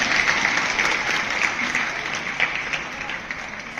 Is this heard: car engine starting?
no